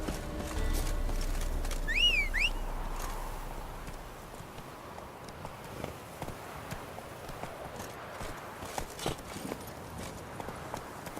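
Horse hooves galloping in The Witcher 3, a rapid clip-clop rhythm at moderate distance under ambient game sound, with a brief bird-like whistle near the start.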